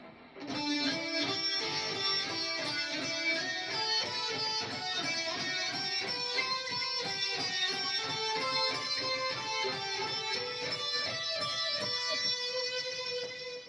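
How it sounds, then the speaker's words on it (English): Electric guitar runs a fast shred lick as rapid picked and legato notes in a dense continuous flurry, moving up and down the neck, steady and close with no voice. "If you were to play this lick without the tapping, it would sound like this."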